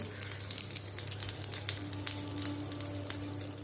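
Fenugreek seeds, curry leaves and asafoetida tempering in hot oil, a crisp close sizzle with scattered pops and crackles over a low steady hum, lively and continuous.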